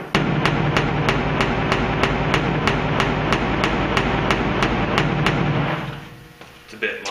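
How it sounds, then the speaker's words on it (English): A pick hammer strikes a truck's metal box side in a fast, even series of ringing blows, loud and close, then stops abruptly as a few softer clanks follow. "I'm going to give it a whack here with the old pick hammer"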